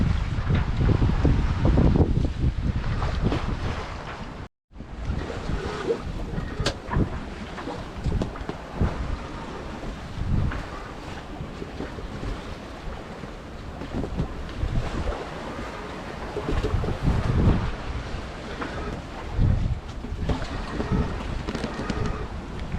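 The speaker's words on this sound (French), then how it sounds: "On a du vent, on va pas se plaindre." Strong wind buffets the microphone aboard a small sailboat on a choppy sea with small breaking whitecaps, waves and water rushing steadily close by, loud and continuous with one brief dropout.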